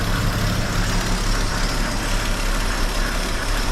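A 1971 Chevy C10 pickup engine idling steadily after a new fuel system install, a low, even rumble held close and loud throughout, with no voices over it.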